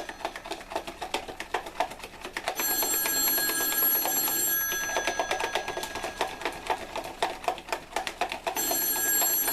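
Repeated loud rings from a telephone bell fill a kitchen where pancake batter is being mixed, coming in long sustained bursts separated by clicking, clattering background noise.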